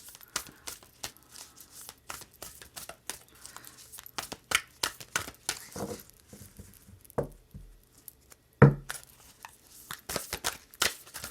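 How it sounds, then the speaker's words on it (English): Oracle cards are shuffled and riffled by hand close by, giving irregular bursts of papery flicking, slapping and crinkling with short pauses between handfuls and one sharper snap, and no talking. "These cards are very hard to shuffle."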